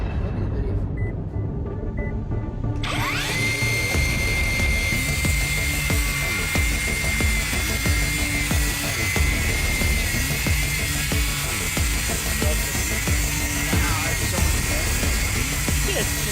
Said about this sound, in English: We're going to go through a stack of half-inch plywood, 5 deep, and may the best saw win.